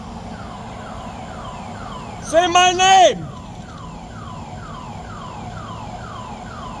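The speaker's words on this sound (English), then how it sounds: "we're in the middle of town and there's a siren going off" A siren wails steadily in the middle of town, its rising and falling sweeps repeating throughout at moderate distance, while someone briefly shouts over it near the middle.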